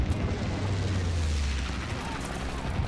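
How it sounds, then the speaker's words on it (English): Mortar strikes in the Call of Duty WWII video game, heavy booming blasts rumbling in the low end and overlapping into a continuous roar, with in-game radio voices talking over them. "Mortar shot out."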